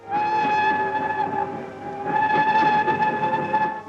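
A passenger train with railway carriages rolls past close by, a loud sustained hum layered with steady tonal ringing and a brief dip in the middle, with no voices.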